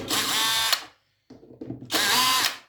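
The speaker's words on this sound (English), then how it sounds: "I will use the drilling machine to take out the back cover." Two loud bursts of an electric drill whirring as it removes the back cover of a damaged active subwoofer, separated by a short pause with clicks and handling noise.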